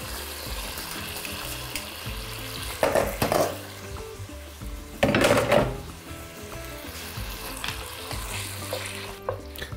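Strained liquid pours over beef heart in a pot, two distinct splashing bursts standing out above a steady bubbling, sizzling kitchen background.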